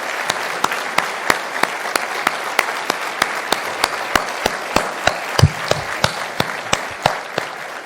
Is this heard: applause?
yes